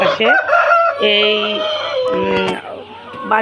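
Farm chickens cluck and a rooster crows close by in a backyard poultry shed, several overlapping calls in quick succession with a few sharp clucks, loud and busy.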